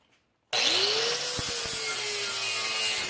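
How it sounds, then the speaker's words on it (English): Grinder working hard on a metal door handle part for a hot rod clamped in a vise, starting abruptly after a brief silence and running as a loud, steady, harsh grinding roar throughout with a whining pitch that drops under heavy pressure. "and then back to the grinder."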